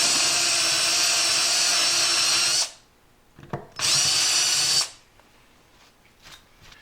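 A power drill bores a flat-bottom hole, whining loudly for a few seconds, stopping, giving a short burst, running again, then falling quiet with faint handling noises.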